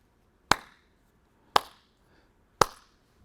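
Three isolated, sharp hand claps spaced about a second apart, faint and tentative, with quiet between them and no voices.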